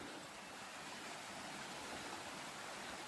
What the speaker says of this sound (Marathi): आतमध्ये इकडे बघा हे पाणी वाहते, वरतून पाणी येते ना त्याचा आवाज येतो.